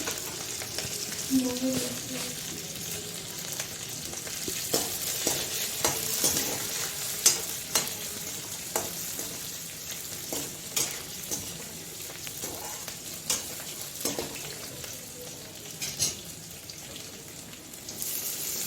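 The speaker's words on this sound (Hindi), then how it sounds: "मैं बारी बारी से यहाँ पे जीरा और लहसुन का पत्ता और मिर्चा को डाल दी" Cumin, garlic leaves, chili and onion sizzle and crackle in hot oil, with soft stirring clicks and pops scattered throughout, steady and close.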